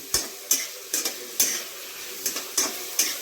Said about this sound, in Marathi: सर्वप्रथम कांदा छान असा आपण फ्राय करून घेऊयात